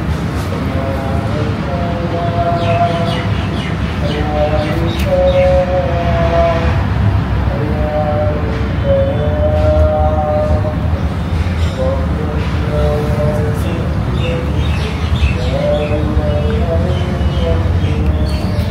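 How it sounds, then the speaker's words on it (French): A chanted call to prayer drifts in from a distance in India, long wavering melodic phrases rising and falling over constant outdoor noise, heard from a terrace. "il y a l'appel à la prière"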